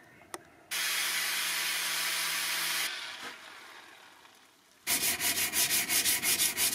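A sword blade being sanded with 120 grit sandpaper cut from a belt, long loud abrasive rasping strokes, one sustained pass, a pause, then a burst of rapid rhythmic back-and-forth scrubbing close by.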